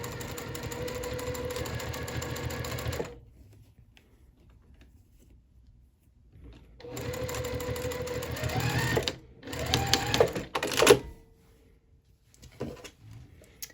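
A sewing machine runs in quick bursts while stitching a narrow scant-eighth-inch seam on a fabric scrunchie, with a long motor whir, a pause, then shorter stop-start runs and a few soft clicks nearby.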